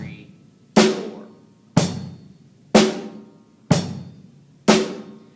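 A basic drum kit groove at a slow, steady tempo, with five evenly spaced hits sounding alone and close, each a bright cymbal-and-drum strike decaying before the next.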